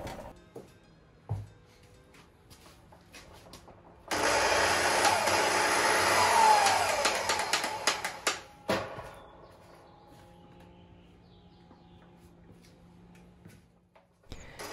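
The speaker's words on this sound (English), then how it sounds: "Let's try to cut this 4x6 piece of lumber." Power saw running off a portable power station to cut a 4x6 piece of lumber, a loud strained motor whine and cutting noise lasting about five seconds, then it stops abruptly and only faint noise remains.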